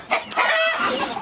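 Cevaze-breed chickens cluck and call in a farmyard flock, with a couple of short sharp clucks followed by a sustained, loud, close vocal call with no speech.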